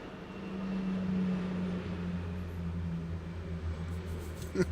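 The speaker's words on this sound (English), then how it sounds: "Hold for plane." Airplane passing overhead, a steady low droning rumble that swells early and holds as a faint, distant wash of engine noise with no talking.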